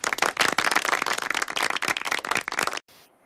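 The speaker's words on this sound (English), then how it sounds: "Every time it's the clapping that gets me." A small group claps hands rapidly and steadily for nearly three seconds, close and crisp, then stops abruptly, leaving a faint hiss.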